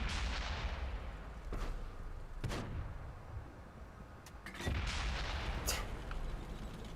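Tank cannon shots in the online game World of Tanks, several sharp booming reports spaced a second or two apart, loud and near, with a rumbling battle backdrop and no speech.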